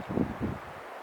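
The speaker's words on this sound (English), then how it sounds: "You can probably hear the wind." Wind gusts buffet the microphone at a sheltered lakeside campsite, two low rumbling puffs fading to a quieter rustle.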